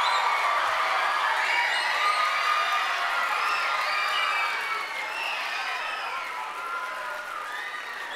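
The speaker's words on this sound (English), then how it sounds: "If we could have one final applause for all of our musicians" Audience applause and cheering for student musicians at the close of a school winter concert, a steady wash of clapping with scattered whoops that holds for several seconds before easing slightly.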